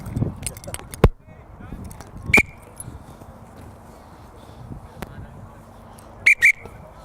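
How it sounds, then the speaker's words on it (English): A coach's whistle during a horse-riding jump lesson gives one short, sharp blast, then two quick blasts a few seconds later, over hoof thuds and clanking in an open arena. "Wait for the whistle."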